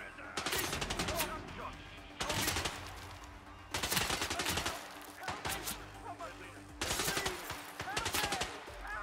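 Bursts of rapid gunfire in Hitman 3, four or five loud rattling volleys separated by short pauses, each a dense string of sharp shots.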